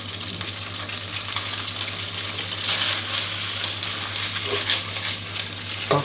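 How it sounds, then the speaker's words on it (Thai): Pasta being tossed with Thai basil pesto sauce in a hot pan, giving a steady close sizzle and soft stirring scrape throughout, with no talking. "เคล้าเส้นกับซอสให้เข้ากันดีเลยครับ"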